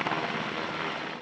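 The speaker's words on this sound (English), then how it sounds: "And as this group of helicopters comes in for landing," Military helicopters from a combined air assault training exercise in the Republic of Korea, heard coming in to land: a loud, steady rotor and engine roar close by, continuous and unbroken, with no voices.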